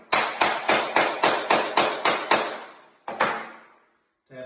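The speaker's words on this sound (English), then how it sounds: "Once I start tapping this in, I'm going to take my hammer" A hammer taps a tapping block to seat laminate flooring planks, eight sharp close knocks in a steady quick rhythm, then a pause and one more ringing hit, with a faint knock at the end.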